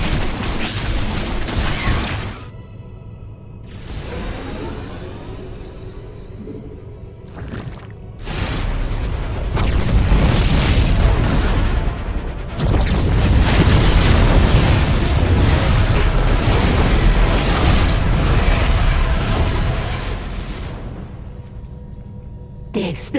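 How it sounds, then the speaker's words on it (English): Booming explosions in the StarCraft game, a sci-fi battle against the Zerg swarm near stasis chambers, rumble heavily and continuously through most of the stretch, with a brief quieter gap early on before loud repeated blasts. "The explosions have stopped."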